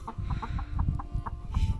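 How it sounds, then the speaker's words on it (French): A hen clucks in short, repeated bursts at an uneven pace, close and fairly loud, with no talking over it. "C'est comme une poule"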